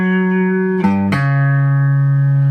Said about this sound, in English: whenever you hear something that sounds very tensiony, it's probably a tritone